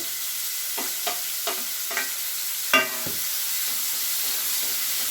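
Onions and tomatoes fry in a pan with a steady close sizzle while a spatula stirs them, giving about five quick scraping strokes in an uneven rhythm and no speech.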